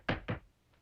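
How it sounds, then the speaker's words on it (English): Two sharp knocks on wood, close and distinct, the second following about a fifth of a second after the first, then quiet. "Knock on wood."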